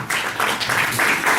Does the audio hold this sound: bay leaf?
no